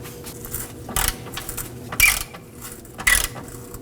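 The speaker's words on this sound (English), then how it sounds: "Now I'm going to remove that nut off the back side." Ratchet working a nut off the back of a rear control arm bolt on a 2005-2009 Subaru Legacy, three short sharp clicking bursts about a second apart against quiet garage background.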